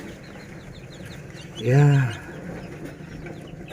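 Chicks and hens in a brooding coop for newly hatched day-old chicks give one short burst of clucking and squawking over steady coop background noise, with a brief word spoken.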